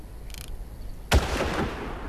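A single sharp gunshot in the video game Far Cry 1 cracks out loud and close, its burst fading into a rumbling echo after a faint earlier metallic click.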